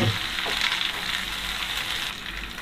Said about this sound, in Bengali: হাফ চা চামচ ধনিয়ার গুঁড়া। একটু নেড়ে দিচ্ছি।